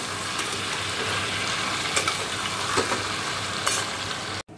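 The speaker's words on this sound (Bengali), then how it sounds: "ওই যে মাংসটা আজকে একটু ভেজে নিচ্ছি, ভেজে তারপর রান্না করবো মাংসটা" Chicken meat fries in a pan with a steady, close, hissing sizzle, a few soft crackles rising above it and a brief cut just before the end.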